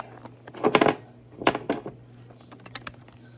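A small glass measuring cup in a kitchen being tapped, giving a few light clicky taps in short clustered bursts, close and crisp with pauses between, no talk.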